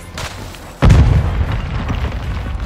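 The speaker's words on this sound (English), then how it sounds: "Hostile mortar strike in the area." A heavy mortar strike in Call of Duty: Modern Warfare II hits with a sudden loud boom just under a second in, followed by a rumbling, crackling roar that lingers.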